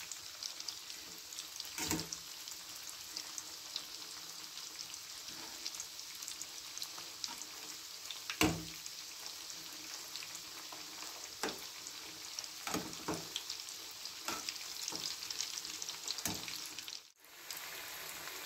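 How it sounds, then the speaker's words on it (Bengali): Chicken cutlets fry in a pan over low gas with a soft, steady sizzle, now and then broken by faint clicks and sharper crackles, quiet and close. "চিকেন কাটলেটগুলো আমার ভাজা হয়ে গেছে, এবার আমি তুলে নেব।"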